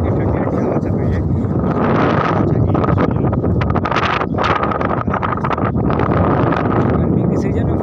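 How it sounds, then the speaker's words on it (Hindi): Cool wind buffeting the microphone at a Ganga ghat, a steady roaring gust noise with crackly bursts, while a person talks over it throughout. "ठंडी ठंडी हवा चल रही है"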